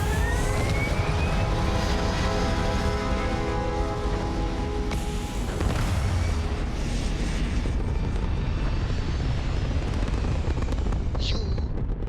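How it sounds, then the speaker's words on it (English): Spaceship thrusters fire in the Starfield video game as a loud, steady, roaring rumble that holds for the whole stretch, with faint tonal whines layered on top. "All thrusters firing."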